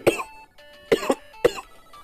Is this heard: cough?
yes